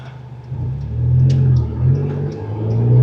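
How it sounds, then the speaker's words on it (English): A rental car fitted with a small racing muffler revs and pulls away, its low engine rumble rising and swelling in two surges, close and loud, with no talk over it. "The engine has a little racing muffler on it."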